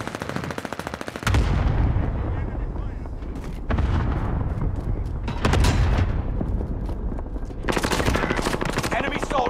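Gunfire and artillery from the video game Call of Duty: Modern Warfare, with loud bursts of shots and heavy blasts that come in waves, punctuated by brief lulls.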